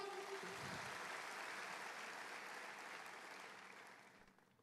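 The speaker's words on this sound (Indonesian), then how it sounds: "Berikan tepuk tangan yuk." A church congregation applauding: a faint, even roar of many hands clapping in a room, holding steady before tapering off near the end.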